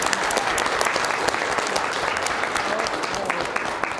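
Steady, dense applause from the audience at a 2022 Battle of the Books competition, honoring the defending champion team; sustained clapping fills the room throughout at even strength.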